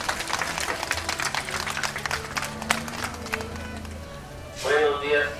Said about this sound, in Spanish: vamos a recibirlo con ese fuerte y caluroso aplauso